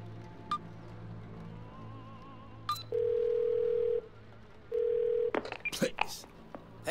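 Phone call ringing out in the video game Twelve Minutes: two long steady ringback tones separated by a short gap, after a few dialing beeps, with brief clicks and noises following.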